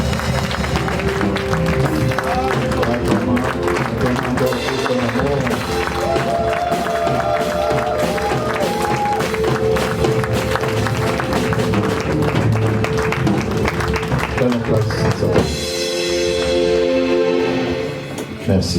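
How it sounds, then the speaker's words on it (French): A church congregation applauds during a sermon with dense, continuous clapping from a crowd, mixed with voices and tones that sound like music. "Acclamez pour sa présence."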